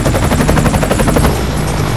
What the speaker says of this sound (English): I want the rest of those helicopters up in the air right now.